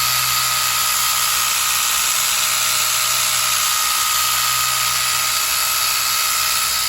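Rotary polisher spinning a pad on a trashed Mustang wheel, a steady high-pitched whine with a constant low motor hum that stays close and loud throughout, with no talking.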